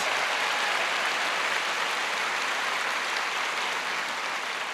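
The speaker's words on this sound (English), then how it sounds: "Would you give them a wonderful round of applause?" Steady, dense applause from a concert audience, a continuous patter of many hands clapping that holds evenly and eases slightly toward the end.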